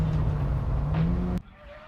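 Car on a race track during a blind coilover test, loud engine drone with a steady tone sweeping slightly upward for over a second, then cutting off abruptly to a quieter hum as it comes onto the brakes.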